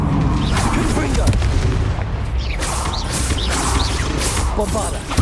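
Confringo fire-spell explosions from combat in Hogwarts Legacy give repeated booms and crashes over a dense, noisy battle din, loud and continuous, with character voices calling out throughout.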